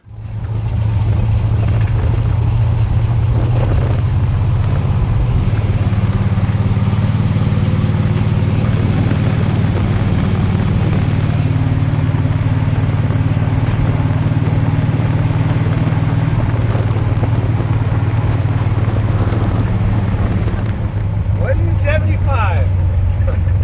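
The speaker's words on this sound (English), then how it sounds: "That's actually the coolest this truck's been, cruising down this road." A truck cruises down the road with a loud, steady engine drone close by, holding an even pitch for about twenty seconds before easing off near the end.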